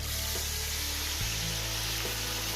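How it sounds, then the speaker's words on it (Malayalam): Whole chicken rubbed with masala deep frying in hot oil over a strong flame, giving a steady, loud broadband sizzle with a low hum beneath and no voices. "നമ്മൾ ഈ മസാല തേച്ച കോഴി എടുത്ത്"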